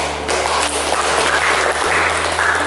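Classroom applause after a sociology of law lecture, a steady dense patter of clapping for under three seconds over a low electrical hum.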